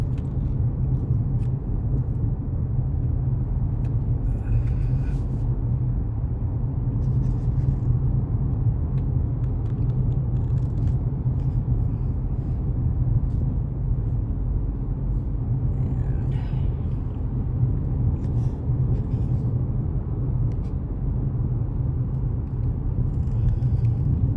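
Car driving along a road past telephone poles and overhead wires, heard from inside as a continuous low rumble and tire whir, steady and fairly loud, with no talking.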